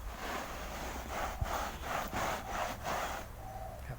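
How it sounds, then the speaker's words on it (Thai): Soft brass brush scrubbing wet leather upholstery, a close, rhythmic rasping of quick back-and-forth strokes, about seven passes, then a quieter pause. "เราจะไล่ขัดขัดขัดทั้งหมดเลย"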